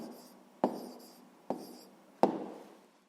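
Pen strokes writing an equation root by hand on paper, three sharp taps of the pen followed by soft scratching, close and quiet, with no talking.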